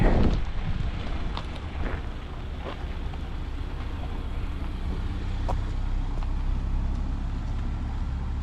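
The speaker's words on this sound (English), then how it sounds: "Wait for the traffic." Street traffic rolling past in Lowell, Arizona near Bisbee, a continuous broadband rush of passing cars with wind buffeting the microphone, loud and close throughout.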